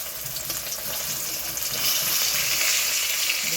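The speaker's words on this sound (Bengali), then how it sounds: "নাহলে আর মাছ কিন্তু ভীষণ ফোটে, বলার মতো নয়" Fish pieces for a Bengali doi kalia fry and spatter in hot oil with a close, steady crackling sizzle that grows louder and denser halfway through.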